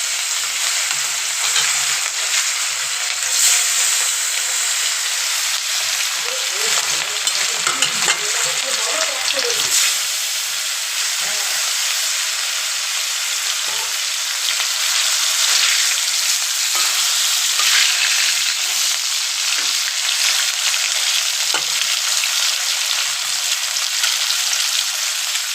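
Pieces of rohu fish frying in hot oil in a wok make a loud, continuous sizzle, broken now and then by the clatter of stirring and turning, and no one speaks.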